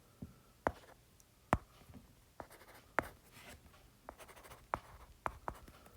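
Pen writing by hand during a lecture, a dry scratching with sharp taps as the pen strikes the surface at irregular intervals, close and fairly quiet with no talking.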